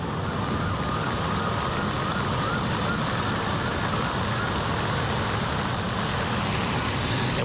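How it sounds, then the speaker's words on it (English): Sirens wail in the background under a dense, steady wash of traffic noise, holding at a constant level throughout. "Hear sirens going in the background."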